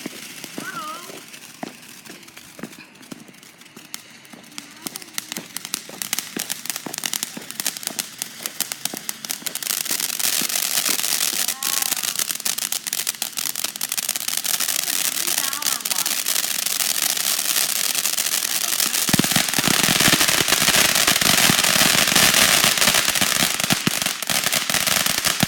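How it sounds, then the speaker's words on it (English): Ordinary consumer fireworks and firecrackers going off in a rapid crackling barrage that grows denser and louder, turning into a continuous sizzling roar of pops toward the end, with people talking now and then. "This is just a regular firework."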